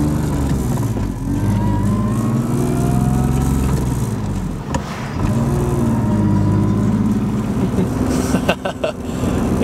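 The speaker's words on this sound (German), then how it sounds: "Also wie man hört, ziemlich laut, das Getriebe und sonstiges Zeug" BMW E36 325i with the M50 engine driving, a loud steady engine drone with audible gearbox whine, pitch rising and dipping with throttle and shifts, close and continuous.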